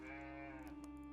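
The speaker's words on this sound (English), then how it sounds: "Sheep." Sheep bleating in the medieval strategy game Rising Lords, one short wavering bleat over a steady droning music bed, no talk.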